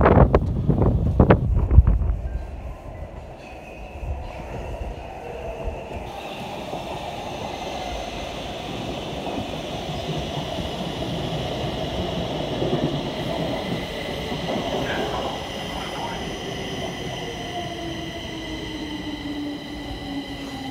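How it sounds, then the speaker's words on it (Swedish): A metro train pulls into an underground station, a steady rumbling roar with wind-like rushing that builds and holds, preceded by a few loud knocks and clatter near the start. "Kommer nog en tunnelbana."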